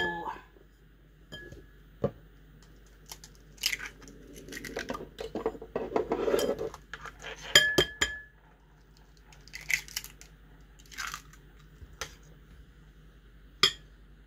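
Shredded cheese and eggs mixed with a spoon in a bowl, giving scattered clinks and scraping taps of utensil on dish, fairly faint and close, with quiet stretches between.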